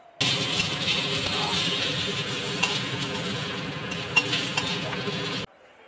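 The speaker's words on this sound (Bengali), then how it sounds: "কেটে রাখা আলুগুলো দিয়ে আলুগুলোকে আমি লাল লাল করে ভেজে নিচ্ছি" Potatoes frying in hot oil with dried chilli and bay leaf in a kadai, a loud steady sizzle with occasional stirring clatters, starting abruptly and cutting off near the end.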